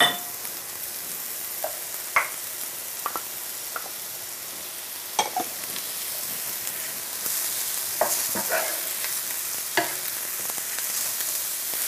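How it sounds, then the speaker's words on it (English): Chopped mushrooms and browning leeks sizzle in a pan, a steady soft frying hiss broken by occasional stirring clicks and scrapes of a utensil, close by, with no talking. "I can see the leeks are beginning to brown, so now we will add the chopped mushrooms."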